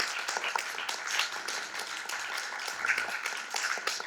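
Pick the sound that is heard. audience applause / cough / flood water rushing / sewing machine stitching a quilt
audience applause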